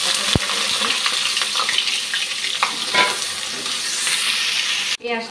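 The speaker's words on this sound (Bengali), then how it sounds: "পেঁয়াজটা কিছু ভাজা হয়ে এসছে," Onion and green chilli fry in hot oil while being stirred, a close, dense sizzle broken by scraping spatula strokes and small pops, ending in a sudden cut.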